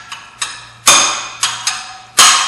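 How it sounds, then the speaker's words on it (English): A hammer striking a wrench to loosen the fan nut on the water pump of a 1996 Jeep Grand Cherokee, six sharp metallic blows at irregular intervals, loud and close, the heaviest two ringing out longest. "And you just hit it a few times, and it comes right off."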